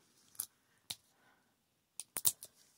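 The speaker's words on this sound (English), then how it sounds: "I never really expect these zippers to work." Zipper being opened on a package, heard as a few short, crisp rasping bursts spread across a quiet moment, with two loud close strokes near the end.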